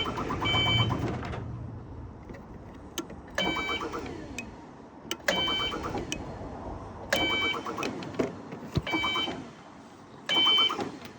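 A cherry picker's warning alarm sounds in repeated beeping bursts roughly every two seconds, loud and close, with quiet gaps between pulses.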